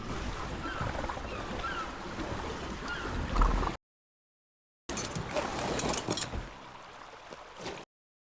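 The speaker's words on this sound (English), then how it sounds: "Here, just sailing, pretty simple, just," Raft sailing on water in the video game ARK, a continuous wash of waves and wind in two stretches separated by a short gap of silence, moderate and unbroken by talk.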